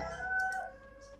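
A dragon call in the Free Fire battle royale game, a faint, wavering, crow-like cry with a tonal squawk over low background game noise.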